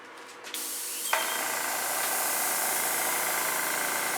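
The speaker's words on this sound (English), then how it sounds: "Get the airbrush out and have some fun." Airbrush spraying acrylic paint for fluid abstract art, a steady close hiss of air that kicks in and holds at an even level throughout.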